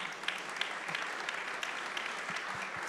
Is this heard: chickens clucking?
no